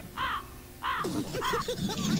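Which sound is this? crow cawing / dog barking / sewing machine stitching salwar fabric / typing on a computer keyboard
crow cawing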